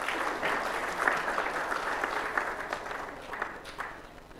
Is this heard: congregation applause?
yes